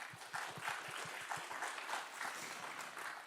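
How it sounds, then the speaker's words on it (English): Applause fills a public HR conference hall, a crowd clapping steadily with individual claps standing out in an uneven, lively patter. "Another big round of applause,"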